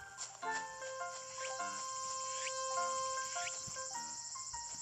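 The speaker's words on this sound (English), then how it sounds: "Evening Cicada." Evening cicada from the Animal Crossing video game, a bright steady insect buzz sustained throughout under light game music tones.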